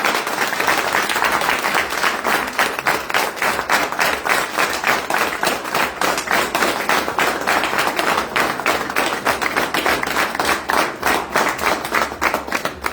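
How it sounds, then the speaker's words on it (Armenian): A crowd at a political rally in Gyumri applauds steadily, with dense, sustained clapping from many people that stays loud and even throughout. "բոլորս միասին ծափարել։"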